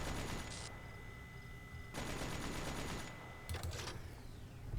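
A turret in The Talos Principle fires rapid automatic bursts, a dense rattling stream that runs for a few seconds, breaks off, then resumes loud and close with brief gaps between volleys.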